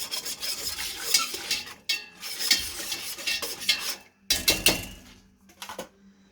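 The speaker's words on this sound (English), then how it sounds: "And then this is the big pot, and I'm still stirring it." Turkey sausage gumbo being stirred in a big pot, a spoon scraping and clinking against the metal in uneven bursts with brief pauses, close and fairly loud.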